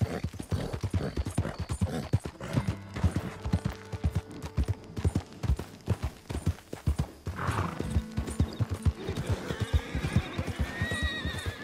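Wild horses in Red Dead Redemption 2 trot past with dense, rapid clip-clop hoofbeats, close and loud, broken by several shrill whinnies toward the end.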